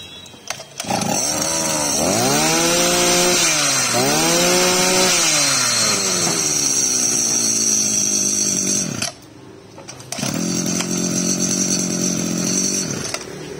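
A small Japanese 25 cc brush cutter engine with a 34 mm shaft revs up and down, loud and close, with rising and falling two-stroke whines, then a brief drop before running steadily again.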